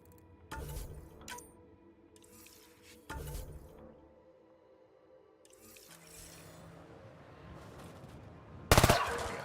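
A rapid-fire weapon shoots in the sci-fi shooter Mass Effect: Andromeda, with short, sharp bursts of gunfire separated by quieter stretches and a loud final burst near the end.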